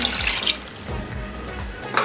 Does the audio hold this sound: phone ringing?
no